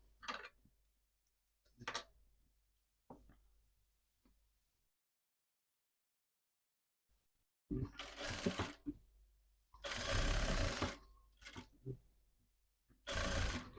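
Sewing machine running in several bursts as it stitches lace onto a summer gandoura, with short runs early and longer, louder stretches later, separated by pauses.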